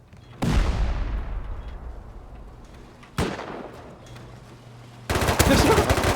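Turret gunfire in the Rust survival game: three loud, sharp bursts of shots, each trailing off into a long decaying echo, with the last burst denser and sustained to the end.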